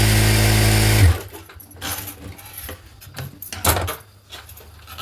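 A sewing machine runs a double stitch on a blouse, a loud steady mechanical whir for about a second that stops abruptly, followed by quieter handling of fabric, clicks and rustles.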